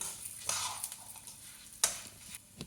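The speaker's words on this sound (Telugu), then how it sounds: "పోపు వేగిపోయిందండి" Faint sizzling of spices frying in hot oil, with a couple of sharp crackles and pops standing out against a soft hiss.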